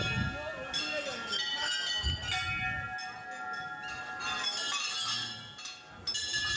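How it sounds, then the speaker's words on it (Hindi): Several temple bells ring out repeatedly at a Shiv temple fair in Dumduma, clanging with bright lingering tones over a murmur of people talking nearby. "देखिए अब घंटी बजावत रहन सब"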